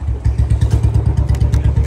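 A Royal Enfield Bullet motorcycle fitted with new alloy wheels chugs close and loud, its engine pounding out a fast, even thump-thump rhythm throughout.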